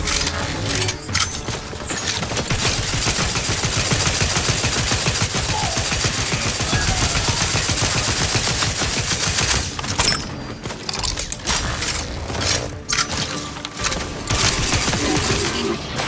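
Rapid gunfire from a weapon in The Outer Worlds 2, a steady dense stream of shots and mechanical clatter lasting throughout, loud and close with brief gaps near the end.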